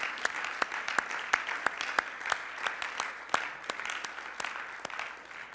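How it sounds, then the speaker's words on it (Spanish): A church congregation claps in unison, a steady rhythmic beat of roughly three claps per second lasting several seconds, fairly faint and evenly paced, with murmured voices beneath. "¿Puede darle un fuerte aplauso al Señor?"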